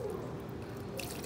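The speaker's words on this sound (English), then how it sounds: "now we're gonna pour the dressing over it, but you pour it over the spatula" Sushi dressing poured over a spatula onto rice for a keto California and Philly roll, a soft steady trickle and drip of liquid running close by throughout, with no talking.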